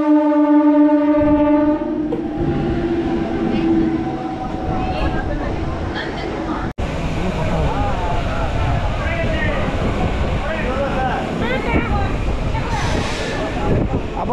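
A local train to Digha running, heard from inside: a horn blares at the start, then a steady heavy rumble and clatter continues, with voices talking over it.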